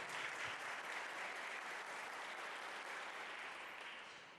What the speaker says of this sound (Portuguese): Dê uma oferta de palmas ao Senhor